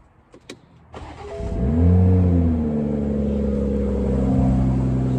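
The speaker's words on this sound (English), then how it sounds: "Let's hear these cars on cold start." Cold start of a Toyota Supra MK5 alongside a Porsche 718 Cayman S: a couple of faint clicks, then the starter catches and the engine flares loudly to a high rev before settling into a steady, rumbling fast idle.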